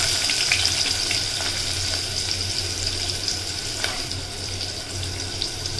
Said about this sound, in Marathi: कांदा आपण आता मस्तपैकी जिरा आणि हिंगामध्ये मिक्स करून घेणार आहोत